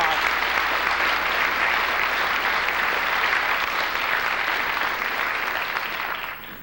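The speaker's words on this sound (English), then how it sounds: "Please give them a warm round of applause." A seated audience at a school-community gathering bursts into loud, sustained applause, a dense wash of clapping that holds steady throughout before easing slightly at the very end.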